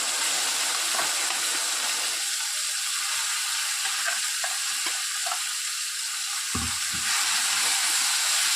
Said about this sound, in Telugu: పోపు అయిన వెంటనే మనం మిక్సీ పట్టుకున్నటువంటి ఈ వంకాయ పేస్ట్ని ఇందులోనికి వేసేసుకోవాలి.